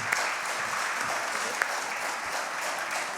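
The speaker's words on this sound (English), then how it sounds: "Now is a good time for a round of applause for all of the candidates." An audience applauding candidates at a League of Women Voters candidates forum: dense, continuous clapping from a crowd, steady and fairly loud throughout, with a couple of sharper individual claps standing out.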